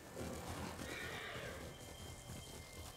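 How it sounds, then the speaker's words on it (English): A horse in the Ghost of Tsushima video game neighs once in a long, loud whinny that lasts most of the moment, set over a busy backdrop of game ambience. "Call my horse."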